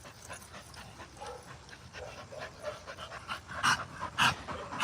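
A five-month-old Cane Corso puppy pants close by in a backyard, quick rhythmic breaths that swell louder toward the end, with no talking over it.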